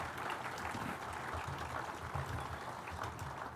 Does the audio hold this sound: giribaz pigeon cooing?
no